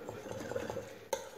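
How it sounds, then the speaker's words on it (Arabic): A spoon stirs a small bowl of yeast mixture for mini pizza dough, giving soft, steady scraping and clinking against the bowl. One sharper knock comes near the end, and no one speaks. "وغادي نخلط مزيان هاد الخليط هذا"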